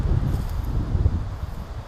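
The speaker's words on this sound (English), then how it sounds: "the wind's kicked up harder than it was" Strong wind gusts across rural property being cleared of trees, a low rumbling buffeting roar that swells and eases close to the microphone, with no voices.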